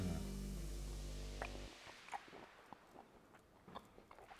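Close, soft biting and chewing on garlic herb shrimp and steak follow a fading background sound, a series of short wet crunches and squishes in an uneven rhythm with no talking.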